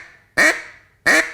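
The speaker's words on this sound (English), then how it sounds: "Let me hear what a quack sounds like real quick." Two short, soft quacks blown on a handheld duck call, each a single nasal burst close to the microphone, separated by a brief pause.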